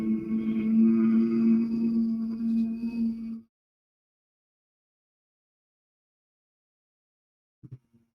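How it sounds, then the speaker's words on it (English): During yoga breathing, a person hums steadily on a long exhaled breath for about three seconds, then silence follows with a faint brief sound near the end. "by saying humming sound like that, you can breathe out for 4 times"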